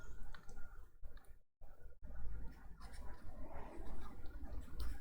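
Chalk or marker scratching and tapping on a board while a math problem is worked out, a steady run of close, quiet strokes with two short silent gaps.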